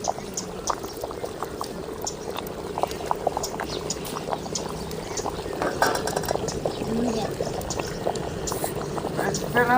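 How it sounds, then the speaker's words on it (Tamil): Rice for peanut rice bubbles at a steady rolling boil in a pot, with a dense, continuous bubbling hiss and light popping held close throughout. "சோறு நல்லா கொதிச்சு வேகட்டும்"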